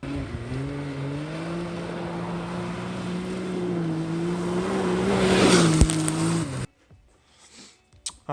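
Can-Am Maverick X3 side-by-side on an off-road ride in the Oregon mountains, a loud, steady engine drone with a slight pitch rise before it cuts off abruptly, followed by faint knocks.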